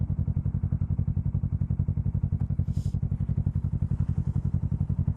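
A 2018 Kawasaki Z650 motorcycle engine while riding, a loud, close, steady rapid pulsing throb with an even rhythm throughout and no talk.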